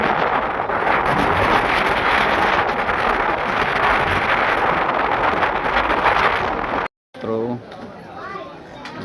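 Strong wind blowing hard across a microphone outdoors on the way to the Dwarkadhish temple, a loud continuous rushing roar that suddenly cuts out near the end, with brief voices after.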